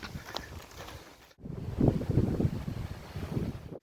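Gusty wind moving through old trees in a forest along a hiking trail, a steady broad rushing that swells louder in the second half, with buffeting against the microphone and no talking.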